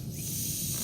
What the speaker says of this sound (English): Little vacuum line of some sort leaking when I get it in the bind.